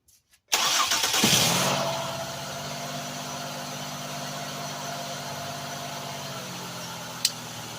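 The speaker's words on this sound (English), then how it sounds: "I'm gonna go inside and crank the vehicle" A 2001–2007 Ford Escape cranks briefly after a moment of quiet, fires up with a loud surge, then settles into a steady, even idle heard up close, with a single faint click near the end.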